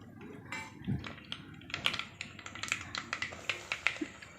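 Quick irregular crackles and pops as mustard and fenugreek seeds splutter in hot oil, growing busier toward the end, fairly quiet and close.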